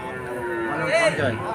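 A calf lets out a single drawn-out moo close by at a cattle market, low and resonant, rising briefly near the end.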